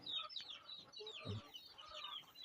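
Several chickens cluck and chirp close by in quick, overlapping bursts, with small chick peeps mixed in, soft overall.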